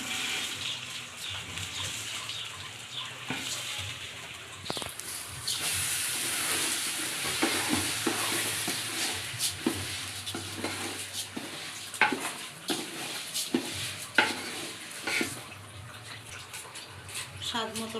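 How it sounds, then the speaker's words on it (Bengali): Washed rice poured into a pot with cardamom pods and bay leaves for morog polao, giving a steady hiss of sizzling and stirring that swells and lingers for many seconds, with occasional scraping clinks. "এখন আমি আগে থেকে ধুয়ে রাখা চালটা দিয়ে দিব।"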